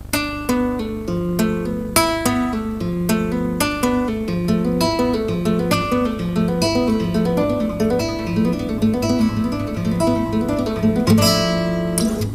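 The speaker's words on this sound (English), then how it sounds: "I make a little lick out of it by doing a pull-off" A guitar plays a short repeating lick of plucked notes and chords, with quick hammered and pulled notes between strums, close and clear with no talking.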